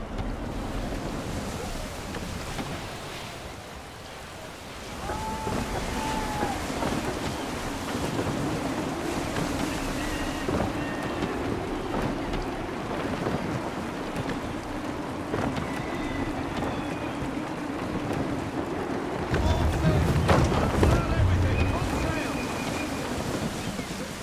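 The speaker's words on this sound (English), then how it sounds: "Wind looks to be shifting. Stay alert, Connor. Gusty winds can be difficult to manage." Wind and sea while sailing a ship in Assassin's Creed III: steady rushing wind and breaking waves under continuous surf noise, with a heavier splash surge near the end and faint game sounds mixed in.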